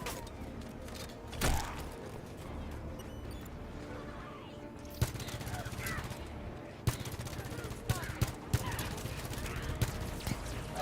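Video game weapon gunfire, bursts of shots cutting sharply through steady background game noise, with several distinct louder cracks near the end and a voice talking throughout.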